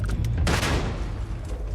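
A grenade explosion in the Starfield space game, a heavy close boom with a burst of gunfire around it, then a fading rumble.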